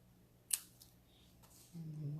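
Scissors trimming paper for card making, one crisp close snip followed by a couple of fainter cuts, then a voice starts speaking at the end.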